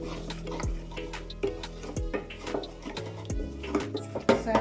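A spoon or whisk stirs a butter and flour roux in a pan, making light repeated scraping and tapping clicks against the metal, quiet and close, with no talk.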